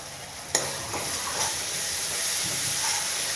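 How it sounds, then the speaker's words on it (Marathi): Tomato paste goes into a frying onion tempering and is stirred, giving an abrupt loud sizzle that settles into a continuous hiss with soft scraping stirs, close up and without talk. "हा टमाटरचा पेस्ट मी आत घालून घेत आहे आणि याला मिक्स करून पुन्हा व्यवस्थित तेल बाहेर येतपर्यंत शिजवून घेऊ"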